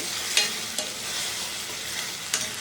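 Chicken frying in a pan for a spicy peppery country chicken curry: a steady, close broadband sizzle with a few sharp scraping stirs of a utensil.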